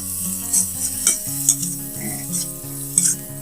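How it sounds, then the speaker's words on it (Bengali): Meat masala and spices sizzle in a pan for a hotel-style singara filling while a spoon stirs and scrapes through them in steady, close, repeated strokes over a continuous frying hiss. "এখন এগুলো একটু নেড়ে চেড়ে মিশিয়ে নেব।"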